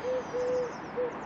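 A worn alternator bearing on a BMW N47 diesel engine chirps in short, steady, high-pitched tones, three squeaks in quick succession over a running engine hum.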